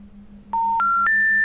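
Three loud telephone keypad dialing tones step upward in pitch one after another, each held about a quarter second, over a faint steady hum.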